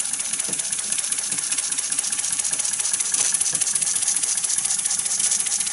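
A Brimo mk2 model engine runs on compressed air with a steady, fast mechanical chatter and hiss. The sound is close, even and continuous, with no speech.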